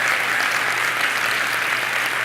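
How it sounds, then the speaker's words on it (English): Audience applause at a finance mastermind event, dense steady clapping from a large crowd filling the room throughout. "Don't clap too hard"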